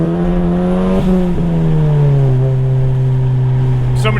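The engine of a Stage 2 MK7 driven in a snowstorm revs loud and close after a missed gear shift, holding a high droning note that dips and bends several times before easing lower.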